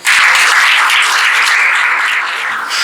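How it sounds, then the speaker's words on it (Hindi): Audience at a Delhi open mic poetry night bursting into loud, dense applause right away, sustained as a continuous wash of clapping for nearly three seconds with no talk over it. "एक बार तालियां बजा दीजिए"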